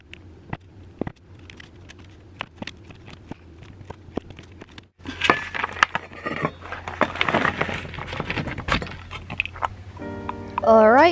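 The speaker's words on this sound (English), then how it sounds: "I like cutting my soap into teeny tiny pieces because it melts faster" A knife chops a bar of soap into tiny pieces, first as a run of sharp, sparse taps and then as denser, louder scraping and cutting up close, with a voice briefly heard at the end.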